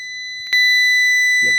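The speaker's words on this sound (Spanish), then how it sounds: "Una vez que está el tanque lleno, se escucha la alarma sonora en el receptor." A receiver alarm on an Arduino 433MHz RF module sounds loudly to signal a full tank. It gives a steady high-pitched electronic tone with a sharp click near the start and a brief low noise at the end.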